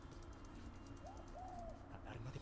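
A pigeon in the video game Marvel's Spider-Man gives a short, soft coo over a steady low game ambience, faint and close, with a brief second call following.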